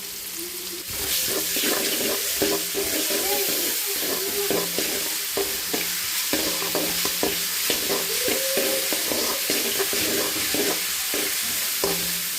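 Egg with ginger paste frying in a pan for egg fried rice gives a steady sizzle, with frequent utensil scrapes and clinks as it is stirred, close and continuous, with no talking.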